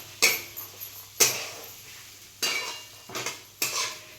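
Peas and seasoning stir-fried in a pan, with five sharp metallic scrapes and clatters of a utensil against the pan at irregular intervals over a faint low hum, fairly close and with no talking.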